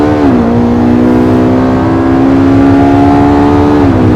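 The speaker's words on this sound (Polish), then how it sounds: "Cała moc silników jest uwolniona." Porsche 918 Spyder hybrid supercar on a hot lap, heard from inside as a loud, close engine drone that climbs in pitch, holds steady under acceleration, then shifts near the end.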